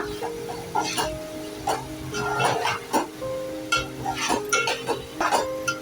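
A utensil stirs prawn rice with salt and coriander in a pot, making repeated scraping and clinking strokes over a soft background sizzle, close and clear, with no talking.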